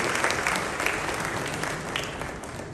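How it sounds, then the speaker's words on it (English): An audience at a mining and minerals convention claps for a deputy minister for lands and natural resources, giving dense, sustained applause from a large crowd that holds steady throughout. "Why are we not clapping, ladies and gentlemen?"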